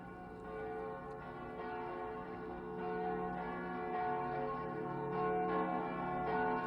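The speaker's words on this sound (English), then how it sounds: "The bell." A church bell tolls within a song, resonant ringing strikes layered over sustained music at moderate volume, steady and unbroken.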